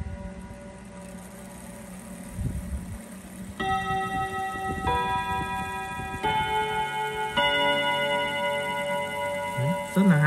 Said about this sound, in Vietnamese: Giờ em sẽ quay lại cho bác nghe lại âm thanh của chiếc đồng hồ gót